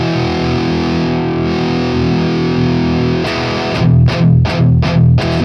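Electric guitar with high-gain distortion: a sustained, saturated chord rings for about three seconds, then four loud, chugging palm-muted stabs hit in quick rhythm toward the end.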